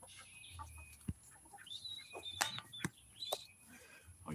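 Chickens clucking and chirping faintly outdoors in the countryside, short scattered calls with a few sharp knocks against quiet rural ambience.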